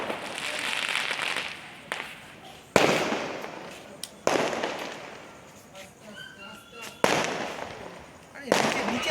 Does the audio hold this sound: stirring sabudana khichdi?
no